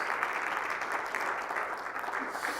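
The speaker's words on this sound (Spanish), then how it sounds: "dale fuerte ese aplauso al Rey de Reyes" A church congregation claps together during a worship service: a dense, steady wash of applause that holds at an even level throughout, with no voices standing out.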